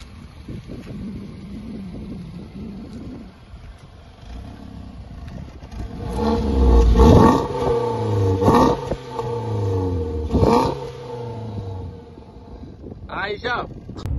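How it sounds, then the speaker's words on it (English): A 2023 VW Polo Vivo Trendline revs its engine through the rear exhaust. There are several rising surges of revving, with wind noise in the background and a brief voice near the end. "let's firstly listen to the sound from that beautiful real pipe or exhaust at the back."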